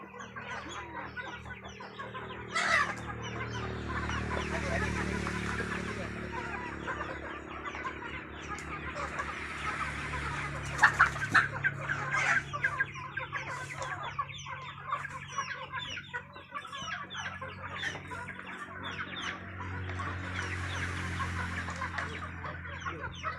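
Free-range village chickens kept in a small home yard alongside ducks cluck and chatter continuously, with overlapping calls from several birds close by and a few louder squawks, no talking.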